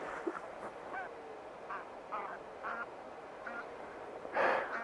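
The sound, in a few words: geese honking while flying by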